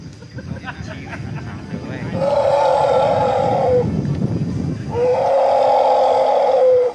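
A baby wild elephant gives two long, loud trumpeting calls, each lasting a few seconds, with rustling and low rumbling between them.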